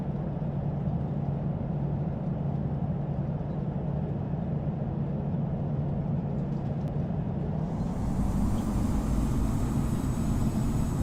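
Airliner engine roar in the Infinite Flight simulator on approach to runway 26 right at Burbank, a steady broadband rumble throughout that swells louder and brighter near the end, with no talking.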